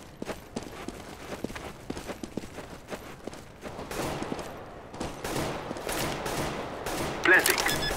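Rapid gunfire bursts and scattered single shots in a Counter-Strike: Global Offensive bot match, moderately loud and intermittent, with footsteps and brief speech mixed in.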